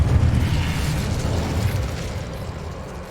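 A fire spell, Incendio, cast in the Hogwarts Legacy video game: a loud, roaring, explosive burst that holds steady and then slowly fades over about three seconds, with no voices.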